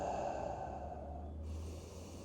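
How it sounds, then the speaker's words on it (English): Heavy breathing during a total-body stretching routine for skiers, with one long, close exhale that fades into quiet. "We're breathing."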